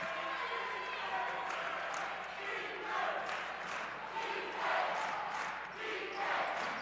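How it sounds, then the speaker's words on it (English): Crowd noise swells and roars at a girls high school basketball regional game, with broadband cheering surging and falling steadily throughout, mixed with gym reverberation and possible ball bounces. "Crowd getting into this game."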